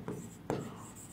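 A pen or chalk writes notes for a calculus lesson in two short scratchy strokes close by, with a quiet pause between them.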